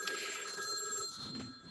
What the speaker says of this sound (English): That was the emergency phone.